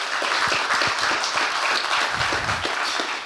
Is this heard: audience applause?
yes